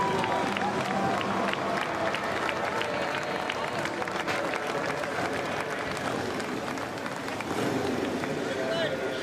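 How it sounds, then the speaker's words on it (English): Fans applauding inside U.S. Bank Stadium as a Harley-Davidson hooligan racer takes his victory lap, a broad, distant crowd roar of clapping and cheering mixed with a commentator's voice and continuous arena noise. "getting a round of applause from the fans here inside the U.S. Bank Stadium"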